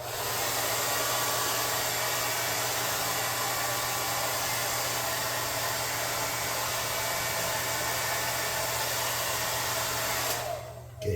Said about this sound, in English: I'm going to use my air gun to kind of blow the baking soda out of here.